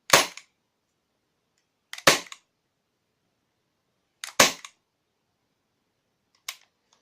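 Four airsoft gun shots fired through a foam silencer, each a short, sharp, muffled pop followed by a quick second click, spaced about two seconds apart in a quiet room; the last shot is noticeably fainter.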